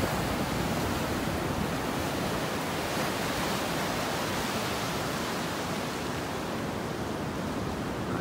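Ocean waves roll onto a beach at North Naples, Florida, at high tide, with a continuous loud wash of surf and a little wind.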